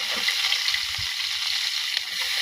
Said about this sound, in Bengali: এবার এগুলো আমি কিছুক্ষণ ভেজে নেব